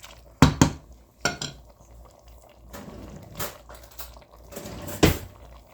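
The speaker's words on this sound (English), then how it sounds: "We'll give it a stir" A spoon scrapes and clanks against a pot while stirring leftover Thanksgiving turkey noodles, a few sharp metallic knocks separated by soft wet shuffling, close and without speech.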